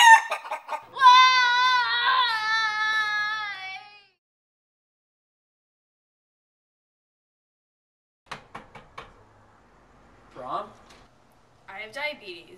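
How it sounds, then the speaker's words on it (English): Harsh, tonal clucking and squawking from a chicken, loud and close for the first few seconds, followed by silence and then scattered bursts of voices and noise. "Hey, that chicken just crossed the road."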